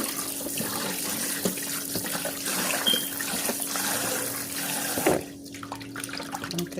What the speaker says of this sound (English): So I'm going to pour the water out and rinse it one more time.